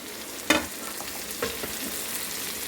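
Small onions sautéing in a pan: a continuous sizzle and frying crackle, broken by two louder scraping stirs of a spoon against the pan.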